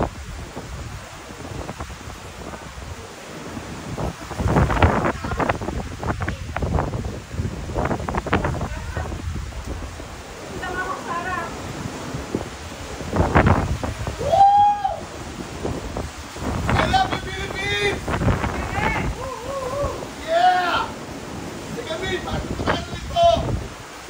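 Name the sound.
wind blowing on a boat trip in Ilocos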